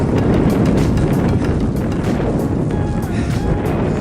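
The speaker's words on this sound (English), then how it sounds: "It's still really windy." Strong, continuous wind roaring and buffeting against the microphone, loud and unbroken throughout.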